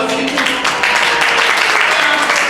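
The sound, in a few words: audience applause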